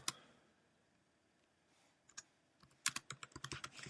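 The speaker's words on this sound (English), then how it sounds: "then I'm going to type something like this" Close, quiet tapping on a computer keyboard, a few isolated clicks at first, then a quicker run of keystrokes near the end, with no talk.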